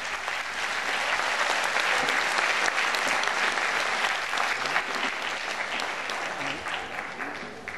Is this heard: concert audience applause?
yes